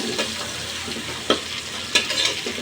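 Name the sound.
prawns frying with onions in a pan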